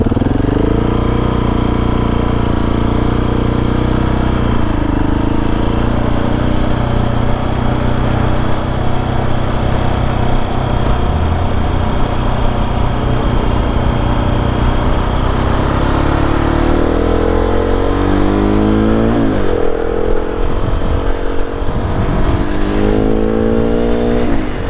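A 2019 KTM 690 SMCR single-cylinder motorcycle engine drones loud and close for the whole stretch, climbing through the gears with rising and falling pitch sweeps under heavy wind rush.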